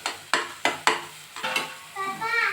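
Mutton hitting a hot pan in a Marathi home kitchen for mutton rassa, with three or four sharp scraping stirs of a spoon against the pan followed by a steady close sizzle.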